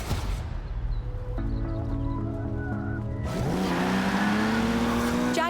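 A Jaguar car in Forza Horizon 4 revs and pulls away, engine tone rising steadily with a tire squeal and accelerating roar, loud and close.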